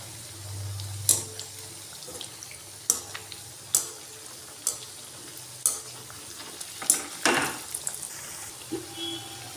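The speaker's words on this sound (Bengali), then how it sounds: "পিঠেগুলো একটু উল্টে পাল্টে ভেজে নেব।" Sweet potato and mung dal pitha fry in hot oil with a low steady sizzle, punctuated by sharp clacks and scrapes every second or so as the cakes are flipped in the pan.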